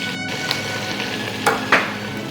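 Beef braciole frying in a pot gives a steady, moderately loud sizzle, broken by a few sharp clinks and scrapes of a utensil against the pot.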